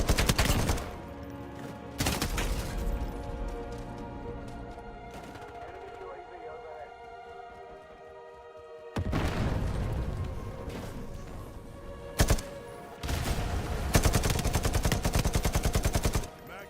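Gunfire in Call of Duty MW4, bursts of rapid automatic fire and single loud shots in dense, crackling volleys separated by quieter stretches, close and loud.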